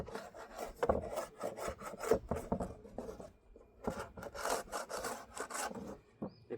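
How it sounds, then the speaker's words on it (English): Sticky propolis scraped off a honeybee hive during a spring inspection: repeated close, rasping scrape strokes in irregular bursts, with brief pauses between passes and no talking. "I'm gonna scrape this stuff off."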